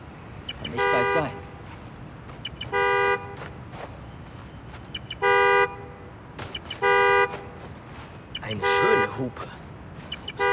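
Car horn honking in the video game Spider-Man: Miles Morales, sounding in five loud, separate blasts of about half a second each, spaced evenly over a steady background of game ambience and faint city noise.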